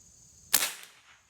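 A single sharp shot from a Kral Puncher Jumbo .22 caliber air rifle firing a pellet, a close crack with a short decaying tail after a quiet lead-in.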